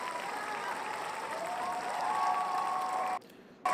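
Viewers at an NFL playoff watch-along clap and cheer for a touchdown, a steady spread of applause at moderate level, cut briefly by a near-silent gap before resuming.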